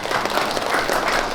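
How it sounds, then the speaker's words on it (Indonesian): A crowd of residents applauds at an outdoor community gathering, a dense burst of clapping that stays loud and steady for the whole moment, with no speech over it. "Beri tepuk tangan."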